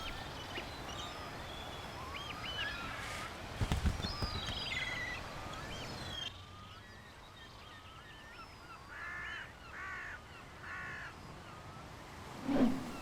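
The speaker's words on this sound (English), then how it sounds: "The hooded crow." Hooded crow calling on a seaweed-covered tidal shore on the Isle of Rùm, several harsh caws over a wide outdoor ambience, with a louder burst of noise near the middle.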